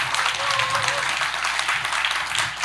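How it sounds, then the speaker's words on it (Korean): Audience applause at a sports-tourism symposium, honoring the panel discussants at the close. Steady dense clapping fills the hall throughout, with some murmuring voices underneath. "토론자들께 다시 한번 수고했다는 의미에서 큰 박수 한번 부탁드리겠습니다"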